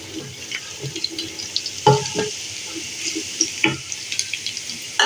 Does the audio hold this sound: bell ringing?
no